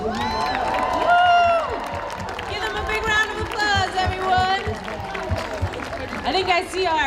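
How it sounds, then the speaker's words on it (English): A parade crowd claps and cheers along a city street during the City of Lights Parade, a dense sustained roar of many hands and voices with talk mixed throughout. "Give them a big round of applause, everyone."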